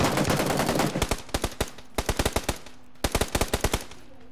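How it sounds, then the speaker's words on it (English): Bursts of automatic gunfire in the PUBG video game, rapid sharp shots in several quick strings with short pauses between, loud and close after an opening wash of noise. "I'm getting shot at."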